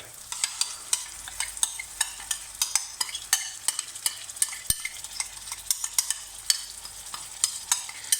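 Onion and garlic paste with turmeric, chili and salt frying in a pan for methi chicken, a steady close sizzle with rapid, crisp stirring scrapes and clicks throughout, no voices.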